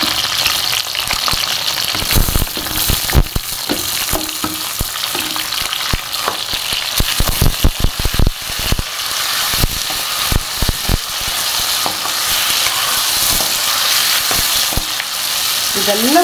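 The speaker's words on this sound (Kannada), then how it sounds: "ನೋಡಿ, ಟೊಮಾಟೊ ಮತ್ತು ಈರುಳ್ಳಿ, ಮೆಣಸಿನ್ಕಾಯಿ ಎಲ್ಲ ಹುರಿತಾ ಇದ್ದೀನಿ." Tomato, onion and green chilli fry in a pan with a loud, close crackling sizzle, broken by sharp bursts of metal scraping as a spatula stirs. Near the end comes a brief faint tone.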